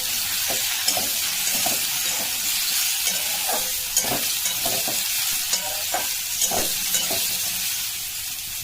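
Vegetables are tossed in a pan with a little oil, with regular scraping strokes from a spatula over a constant, close sizzle.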